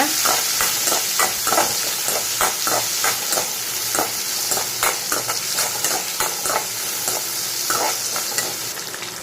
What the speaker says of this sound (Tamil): வெங்காயமும் பச்சை மிளகாவும் போட்டு நல்லா வதக்கிக்கோங்க